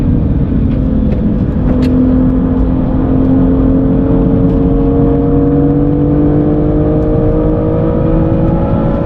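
A BMW M2 NLS Version engine accelerates hard on the Nürburgring Nordschleife, a loud continuous drone with rising harmonics as it pulls up through the revs, heard from inside the car.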